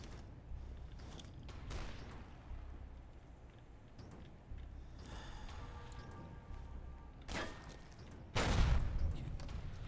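Heavy rifle shots in a first-person shooter video game, with several sharp booming reports spread across the stretch, the last one loudest and closest, over steady game ambience.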